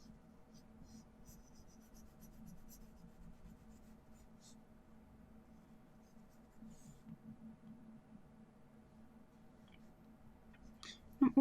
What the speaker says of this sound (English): I'm going to go straight in with the HB charcoal pencil and draw in our centre line